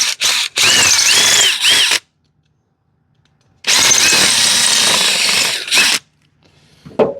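A power drill bores out a rivet on a John Deere zero-turn mower in two loud, close bursts of high whirring, separated by silence, with a brief clatter at the end.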